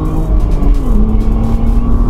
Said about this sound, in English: There's that six cylinder.